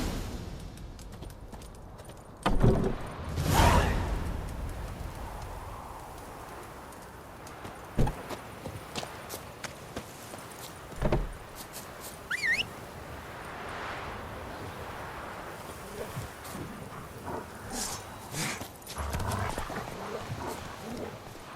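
Horse hooves clip-clopping in The Witcher 3, a few loud thuds early on followed by softer, irregular hoofbeats and faint ambient game sounds.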